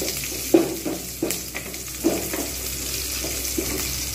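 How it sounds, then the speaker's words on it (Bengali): Chopped onions fry in a pan for a prawn and taro-stem dish, with a soft steady sizzle. A few distinct scraping stir knocks come at irregular intervals. "পেঁয়াজটাকে আমি কিন্তু খুব ভালোভাবে আমি ভেজে নেব।"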